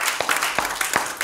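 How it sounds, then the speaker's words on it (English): A church congregation claps in a quick, uneven rhythm, with close, sharp individual claps over a short stretch. "Give the Lord a hand clap."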